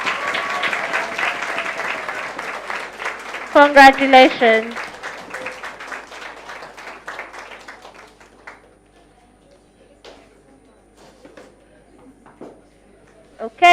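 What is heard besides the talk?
audience clapping for best speaker at debate tournament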